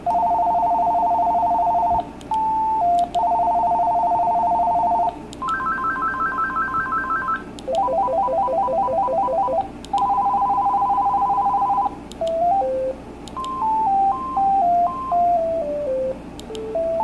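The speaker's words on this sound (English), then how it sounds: "Here's the ringtones." An AT&T CL82301 cordless phone plays a series of electronic ringtones: repeated warbling beeps, trilling bursts and stepped melodic tones, loud and close, each pattern looping for a few seconds before switching to the next.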